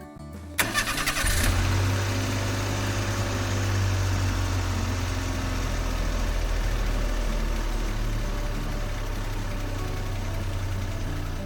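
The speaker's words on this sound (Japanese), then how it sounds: "ここで、エンジンを始動してみます。" An automatic car's engine cranks briefly and catches, then settles into a steady, fairly loud idle with a low hum that holds for several seconds, nearby and without talk.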